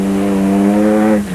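Rally cars on the 1996 Dakar Rally push through deep, rutted mud in heavy rain, producing a loud, steady engine drone held at a constant pitch that fades slightly at the end, with no voices.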